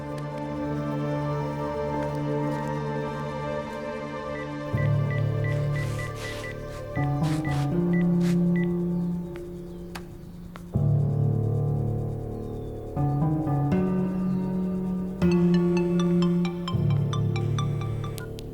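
A phone call is placed in a drama scene: a series of steady electronic tones rises and falls in repeating stepped blocks, like a dial and ringback pattern, loud and alone with no talking.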